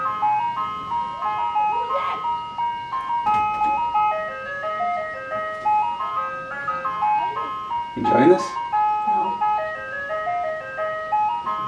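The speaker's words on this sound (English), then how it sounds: "he's the kid going in the ice cream truck." An ice cream truck plays its tinkling electronic jingle nearby, a steady looping melody under occasional talk and a brief passing vehicle noise.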